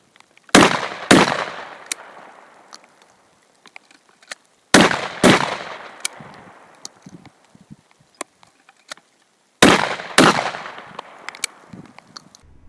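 Ricol short barrel shotgun firing in three pairs of loud, sharp blasts, each pair followed by a pause for a speedloader reload, with faint clicks and handling noise in between.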